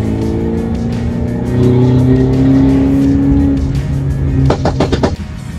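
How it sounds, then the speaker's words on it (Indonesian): Mercedes C300 Coupe AMG accelerating hard on a busy street, its engine note rising in a steady, loud drone that swells midway, with a brief sharper burst near the end. "Kalau kalian mau tiba-tiba kayak ngegas gitu juga bisa langsung guys."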